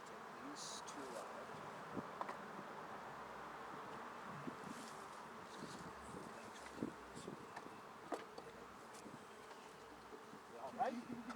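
Honey bees hum in a soft, continuous drone during a beekeeping field day, quiet and steady with light rustling and handling noises and an occasional voice in the background.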